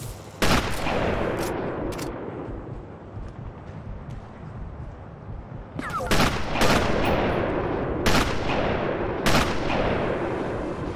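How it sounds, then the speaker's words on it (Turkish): Loud, sharp gunshots from enemy sniper rifles in the Sniper Elite video game, a few irregular cracks over several seconds against a rumbling battlefield background, with no talking. "Şu başımın belası keskin nişancı hala sıkıyor bana."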